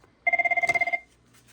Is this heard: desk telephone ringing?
yes